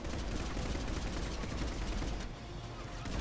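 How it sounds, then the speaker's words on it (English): Sustained gunfire from a Mass Effect 3 gunfight, dense and loud throughout with overlapping rapid shots and no pauses. "I gotta admit, the gun's still pretty nasty."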